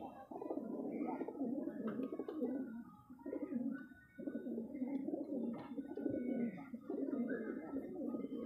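Kaldume pigeons coo in soft, repeated low calls with brief pauses, close by and fairly quiet, with light chirps mixed in.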